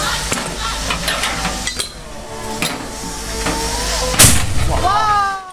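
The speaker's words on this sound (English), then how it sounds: "When he powers up to pick up the popcorn, it's like he's setting off fireworks or firing a cannon" A Chinese street popcorn machine in a popcorn shop bursts open with one sharp, cannon-like bang near the end, following scattered clinks and metallic knocks, with voices and murmuring throughout.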